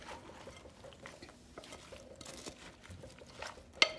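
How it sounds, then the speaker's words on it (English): A Waldorf salad dressed with whipping cream is stirred in a bowl, giving soft, wet, squelching scrapes at low volume, with a brief sharper clink near the end. "Now I'm stirring this up good."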